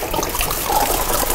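Liquor such as Everclear pours steadily into a sink, a continuous close splashing gush of liquid with no pause.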